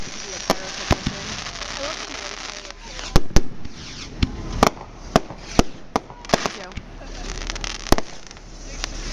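Fireworks burst at an anniversary display with sharp, loud bangs and crackles arriving irregularly over a constant background rumble, while people talk and exclaim in between.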